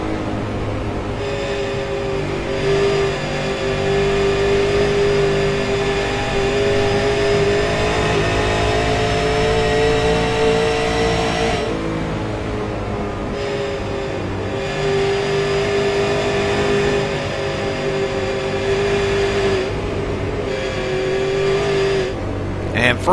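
Race cars at speed on an oval track, a continuous loud engine roar with sustained tonal whine that rises and dips as the pack passes, filling the whole stretch without clear speech.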